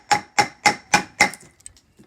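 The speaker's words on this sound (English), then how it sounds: "Then we can get a chisel, a nice big chisel here, and we can go into our scribe line and just remove some of that waste." A big chisel is struck to remove waste wood at a scribe line on a garden picnic table, giving five evenly spaced, sharp, ringing knocks close by, then a few faint taps.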